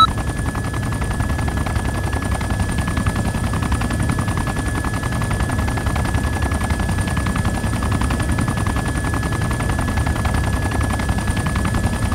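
Machine-gun fire in the military game ArmA 2 rattles as a continuous rapid stream of shots, loud and unbroken, over a low engine-like drone with a steady tone.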